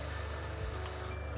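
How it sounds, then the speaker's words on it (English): An airbrush spraying paint onto a hobby model gives a continuous close hiss with faint mechanical clicking, steady and unbroken throughout. "I'm going to crack on with the airbrush."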